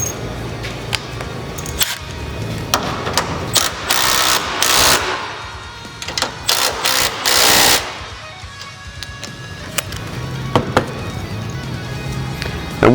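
A ratchet tightens front suspension bolts on a 1965-70 classic Mustang during installation of an R3 Performance Products kit, with quick bursts of rapid clicking between pauses and scattered metallic taps, close and moderately loud.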